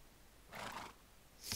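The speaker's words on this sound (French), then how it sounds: "Donc on va faire spawn un cheval, un œuf de cheval." A horse neighs in Minecraft, one brief whinny followed by a second short sharp cry, fairly faint and with no talk over it.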